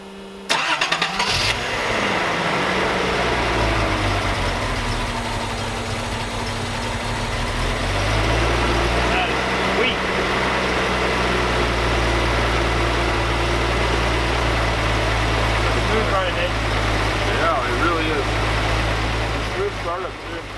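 A 1970s Datsun 280Z engine left rotting for 20 years runs steadily after being revived, a loud, continuous low rumble that starts up and holds an even idle throughout, with faint sounds over it.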